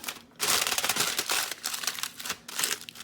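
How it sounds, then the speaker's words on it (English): Tin foil is wrapped around a washed sweet potato before roasting, giving close, loud crinkling and crumpling in uneven bursts after a brief quiet start. "I'm just going to wrap it in this tin foil."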